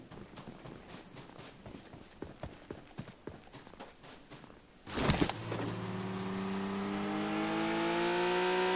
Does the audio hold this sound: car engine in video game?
yes